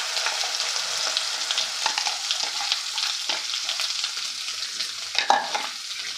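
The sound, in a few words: frying ground masala paste for matki curry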